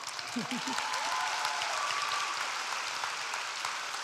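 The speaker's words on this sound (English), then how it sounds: "Yes, please clap." High school graduation ceremony crowd applauding for counselors, a broad sustained roar of clapping from a large audience, with a few cheers rising through it.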